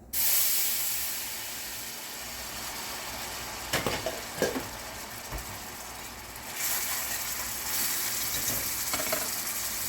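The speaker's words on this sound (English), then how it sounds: "We're going to add some hot water." Hot water poured into a hot pan where garlic powder is cooking hisses and sizzles loudly and steadily, with a few sharper bursts midway before the steam settles to a softer, lingering hiss.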